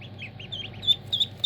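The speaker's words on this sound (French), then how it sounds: "les premières naissances en canneton" Newly hatched ducklings of breeds such as Silver Appleyard and Bourbourg, giving a string of high thin peeps that grow sharper toward the end, close up and without talk.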